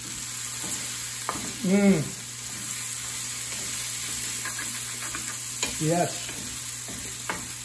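Sauce sizzles steadily in a pan that held sautéed sausage, with two brief bursts of stirring scrapes, while a person murmurs a few short approving words.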